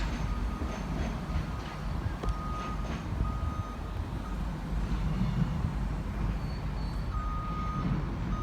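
Trains rumble into the tunnels at Edinburgh Waverley station, a steady low rail-transport roar with faint tonal beeps and squeals over the station din.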